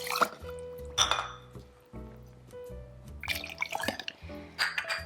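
Water poured into a blender cup holding light quinoa for a gluten-free flatbread, splashing and trickling with clinks of the container, close and fairly quiet.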